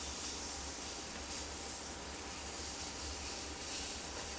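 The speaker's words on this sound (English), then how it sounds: "So let's go ahead and try to flip this over, see what we're looking at." Meat sizzles in a pan on a Sunmaki 316 induction cooktop after being flipped, a dense and even hiss that holds steady throughout, close by with no talking.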